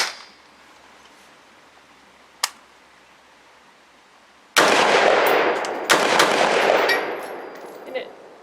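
Rifle shots from a Brownell's BRN 601 at a shooting range, two loud sharp reports in quick succession after a faint earlier click, each followed by a ringing decay outdoors.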